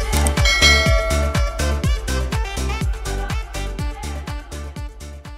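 Notification bell sound effect of bright, loud metallic bell strikes repeating in a steady rhythm, each ringing out with rich overtones.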